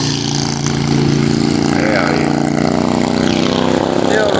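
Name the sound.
old Ironhead motorcycle engine running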